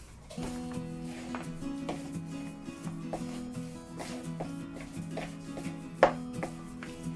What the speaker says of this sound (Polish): No i teraz sobie po prostu łyżką mieszam.